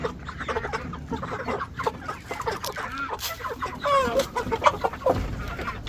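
Several chickens cluck and chatter close by in quick, overlapping bursts, with scattered rustling around them.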